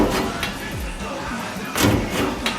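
A rat rod truck door swings open and shuts with a couple of dull thumps and a latch clunk, close by, over steady shop background noise.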